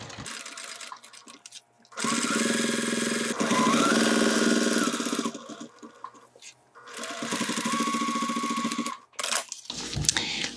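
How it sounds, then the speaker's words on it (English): A sewing machine top-stitches around a 3D cargo pocket on a bag, running in two long, loud, steady bursts of rapid mechanical chatter separated by brief pauses, with a short stop-start flurry at the end. "Now I only need to sew top stitching around it."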